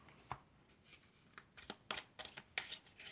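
Tarot cards are drawn from a deck and laid down one at a time during a reading. Several crisp, close slaps and shuffling flicks come at irregular intervals, with quiet pauses between them.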